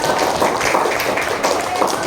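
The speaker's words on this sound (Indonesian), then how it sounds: "Tepuk tangan untuk Sarah." Children in a fifth-grade primary school class clap for a classmate, a brief, busy burst of many small hands pattering together at close range, with voices underneath.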